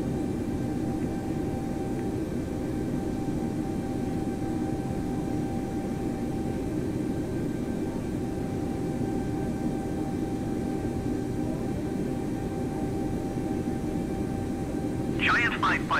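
JetBlue Airbus A320 jet engines rolling for takeoff on runway 22 right at New York JFK in Microsoft Flight Simulator 2020: a loud, steady broadband roar holding throughout, with a brief high chirp near the end.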